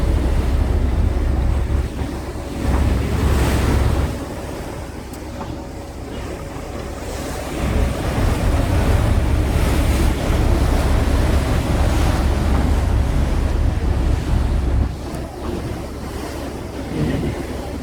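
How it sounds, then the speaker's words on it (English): Choppy sea waves slap and surge around a Sydney ferry crossing the harbour toward Manly, loud and continuous, mixed with heavy wind buffeting the microphone and the rumble of the boat, rising and falling in repeated swells. "waters are very choppy here."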